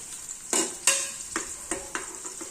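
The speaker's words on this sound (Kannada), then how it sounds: "ಮತ್ತೆ ಈರುಳ್ಳಿ ಹಾಕ್ಬಿಟ್ಟು ಫ್ರೈ ಮಾಡ್ತಾ ಇದ್ದೀನಿ" Onions frying in a pan with bay leaf and star anise, a hiss of sizzling punctuated by several crisp scraping strokes of a stirring spoon, close up with no voices.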